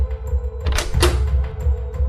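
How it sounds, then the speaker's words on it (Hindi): A door is pulled open after officers knock and call out at a house in the morning, giving a couple of close thumps and a rattling clack over a low steady background hum. "दरवाजा खोलिए।"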